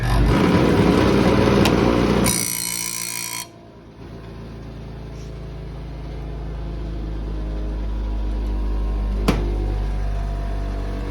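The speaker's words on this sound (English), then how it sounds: "It runs on 115 volts, comes with a dressing stick, and runs nice and quiet." A JET bench grinder running on 115 volts with a dressing stick gives a steady, fairly quiet motor hum that settles after a louder, brief whirring burst at the start; no one speaks.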